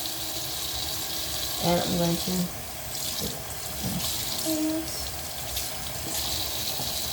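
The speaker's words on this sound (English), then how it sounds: "I'm going to turn my water on" A water tap runs steadily into a sink for hand washing before putting on sterile gloves, a constant hiss heard close, while a person speaks briefly over it.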